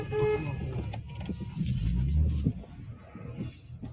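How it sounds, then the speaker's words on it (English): A car horn honks at ICE agents during a street confrontation, short blasts over traffic and engine rumble, fairly close, with no speech. "Starts honking his horn at ICE agents."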